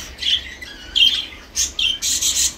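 Red-eyed lutino Japanese budgerigars squawk and chirp close by in quick, sharp bursts, the calls crowding together more densely toward the end with no talking.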